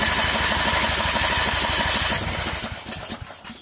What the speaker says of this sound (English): that's a hell of a backfire